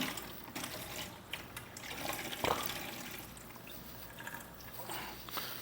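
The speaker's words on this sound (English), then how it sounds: "now I rinsed these potatoes like 3 times to get all the excess starch out of them" Running tap water while potatoes are rinsed in a kitchen sink, a steady soft splashing gush with a brief clatter midway, fairly quiet and close.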